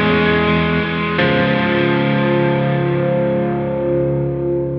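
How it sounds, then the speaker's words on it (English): Electric guitar with light overdrive, reverb and delay rings out in sustained chords from a riff, a fresh strum at about one second, then the notes fade slowly with a reverberant tail. "with the effects, which I'm just using a little bit of overdrive"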